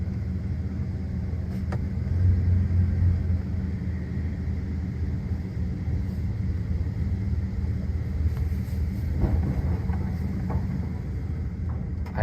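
A Dodge Dakota pickup, parking brake released and shifted into gear, rolls off with a low steady engine and drivetrain rumble throughout, heard close and continuous with faint clicks and knocks, no talk.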